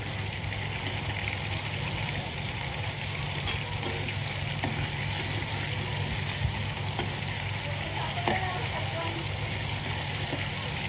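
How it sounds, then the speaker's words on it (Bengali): Chicken pieces deep frying in plenty of hot oil give a steady, dense sizzle that runs unbroken throughout at close range, with a few faint clicks and pops and no talk. "আপনারা চেষ্টা করবেন ডুবো তেলে ভাজার কারণ ডুবো তেলে ভাজলে অনেক মজা হয়"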